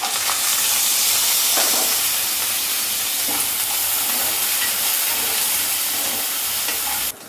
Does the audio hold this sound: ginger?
yes